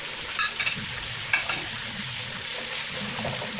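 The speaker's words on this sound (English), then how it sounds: "Mix until the tomato paste is well cooked." Garlic and ginger paste, coriander stems and tomato paste fry and get stirred in a pot for chicken biryani, a close, steady sizzle with a few sharp scraping stir sounds near the start.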